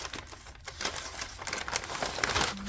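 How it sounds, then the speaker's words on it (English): Items from a craft subscription box being unwrapped, close crinkling and rustling of wrapping paper and plastic that rises and falls in continuous bursts, with no voices. "then I'll unwrap everything so there's no glare"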